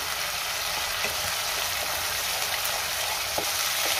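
Tomato paste sautéing in oil for a dhaba-style shev bhaji gives a steady, close sizzle with fine crackle, and a few faint scrapes stand out from the continuous hiss.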